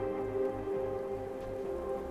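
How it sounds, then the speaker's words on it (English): Steady rain falling outdoors in the narrative game South of the Circle, a continuous soft patter with a low rumbling bed, heard alone without voices. "The rain."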